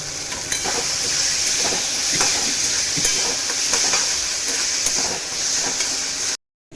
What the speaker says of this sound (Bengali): কড়াইশুঁটিটা দিয়ে আরেকটু নাড়াচাড়া করবো